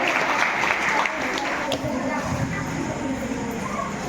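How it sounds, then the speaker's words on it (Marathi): Applause rings out at a village haldi-kunku ceremony held for Shivaji Jayanti by a women's self-help group in Lonad, honouring women dignitaries; steady dense clapping fills the clip, with crowd murmur underneath. "जोरदार टाळ्या आपल्या महिला मान्यवरांसाठी होऊन जाऊ देत"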